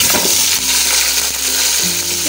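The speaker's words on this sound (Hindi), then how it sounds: "अब इसमें हम सारा गोश्त डाल देंगे।" Beef pieces dropped into hot oil with light-brown fried onions for nalli nihari, a loud continuous sizzle with stirring clinks and scraping in the pan, no voices.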